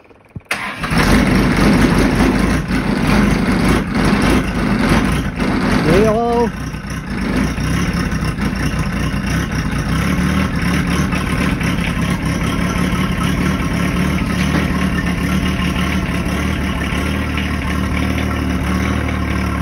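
A diesel engine cranks and fires after its glow plugs are cycled, then settles into a loud, rough, uneven idle that runs steadily to the end, close by, with machine noise filling the whole clip.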